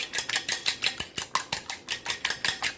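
Shrimp for coconut shrimp being mixed in a bowl make rapid, evenly spaced scraping and clinking strokes, close and fairly loud, with no talking.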